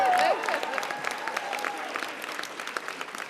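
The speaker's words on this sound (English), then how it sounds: "You should applaud that one." Audience at an advocacy day gathering breaking into applause, starting louder and continuing as scattered, fairly distant clapping with some crowd noise.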